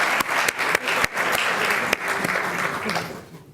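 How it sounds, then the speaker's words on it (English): Audience applause for retired educators at an evening district recognition event, a dense, steady wash of clapping across the whole stretch, with a few sharper individual claps standing out before it starts to thin at the end. "Thank you, and give them another round of applause."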